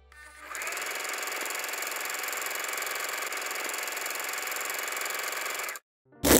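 Sewing machine stitching dress pieces together, a continuous fast mechanical whirr that starts, runs steadily for about five seconds, then stops, followed by a brief loud burst.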